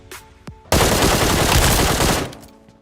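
Sustained automatic gunfire in the mobile shooter PUBG Mobile, a loud dense burst of rapid shots lasting about two seconds after a couple of faint clicks, then cutting off.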